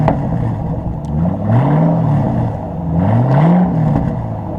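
A 2005-2009 Ford Mustang GT with a Pypes muffler delete revs twice from a deep idle, each rise swelling and falling back, loud and close with a rumbling low exhaust tone.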